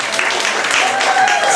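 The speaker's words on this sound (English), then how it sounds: "you can clap for that" Audience applause at a drag show, dense close clapping at a steady loud level for the whole stretch, with faint crowd voices mixed in.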